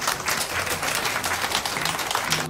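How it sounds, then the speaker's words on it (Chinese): An audience at a nutrition book talk claps to welcome a speaker, with dense, steady applause that stays close and full throughout before ending abruptly. "掌声欢迎"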